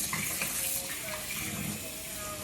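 Running water flows steadily over a wig being rinsed in a sink, a soft continuous splashing rush heard close and fairly quiet.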